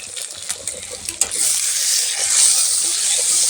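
Egg bhurji fries and is stirred in a pan, a steady close sizzle with bright hiss building through the second half, punctuated early by a few utensil scrapes and taps.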